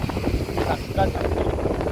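Wind gusts across the microphone at KRS dam, a steady loud rushing rumble throughout, with a voice talking briefly within it.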